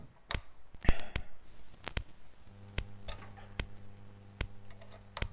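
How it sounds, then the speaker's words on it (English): Rhythmic clicks from a live-coded, crowdsourced sound patch tick at a steady pulse, sharp and distinct, with a low steady hum entering partway through. "I hear a rhythmic clicking"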